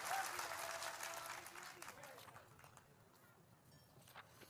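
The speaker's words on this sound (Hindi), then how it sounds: "ताली बजा दीजिए" Audience applause in a Hindu religious court gathering, a loud burst of many hands clapping at the start that gradually thins and fades over a few seconds.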